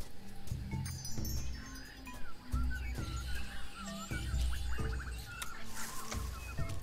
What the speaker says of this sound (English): That jungle sure is noisy. Bee, monkey, boar, bee, bird.